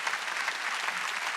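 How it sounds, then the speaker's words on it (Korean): A church congregation at an Easter Sunday service breaks into steady, dense applause, a full roomful of hands clapping evenly with no voices over it. "박수 치라, 박수 치라"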